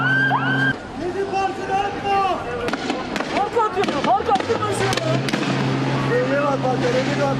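Fireworks popping and crackling amid a protest clash with police in Taksim Square, Istanbul, sharp bangs scattered over a dense, noisy crowd roar with loud shouting throughout.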